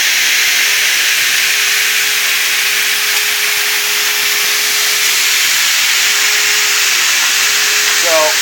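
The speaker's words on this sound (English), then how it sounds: "Obviously the saws are running because the three phase is on." Builders Automation 845 trim saws running on three-phase power give a steady, loud, even whine and hum that holds unchanged throughout, with no voices over it.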